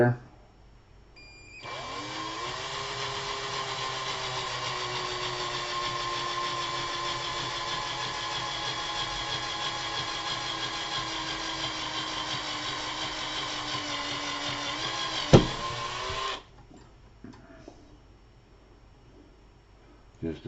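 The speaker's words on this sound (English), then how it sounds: "Drill me a little hole" A power drill bores a small hole in metal, a steady whining motor tone that runs for about fifteen seconds with a sharp knock near the end before stopping.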